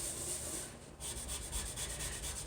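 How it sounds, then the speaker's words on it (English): A stainless steel sink is scrubbed up close in quick, rhythmic rubbing strokes, quiet and continuous with a brief pause near the middle. "I just really need to focus my scrubbing in every single little square millimeter, including this edge right in here."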